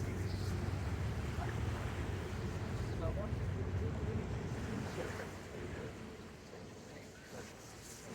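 Steady roaring rush of a hovercraft arriving or leaving at Old Portsmouth, with heavy wind buffeting the microphone, loud and continuous, easing slightly toward the end.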